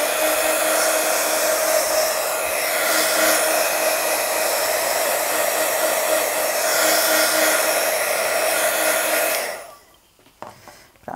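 A hair dryer blows steadily and loudly, drying decoupage napkin work on a recycled glass jar, with a constant whirring hum before it cuts off abruptly near the end, leaving faint handling noises.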